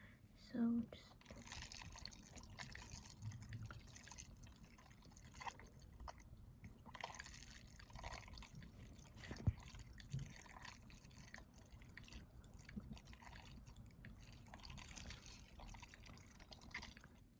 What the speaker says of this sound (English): I'm just going to be stirring that a little bit to make it rounder and more perfect